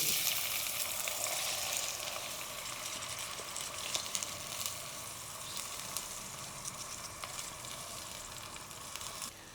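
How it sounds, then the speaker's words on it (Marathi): Rice sizzling in a pan with bay leaf, cloves, cardamom and cinnamon for coriander pulao, a steady close crackle with faint stirring and no speech, slowly easing in loudness. "तांदूळ आपण चांगले परतून घेतले"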